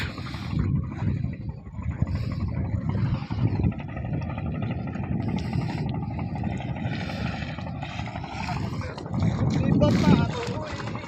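Boat at the Bhandaripara river launch ghat on a cold day, heard as a low engine drone with wind buffeting the microphone and water noise, while people talk over it throughout.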